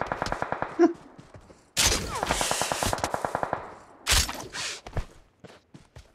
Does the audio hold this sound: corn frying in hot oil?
no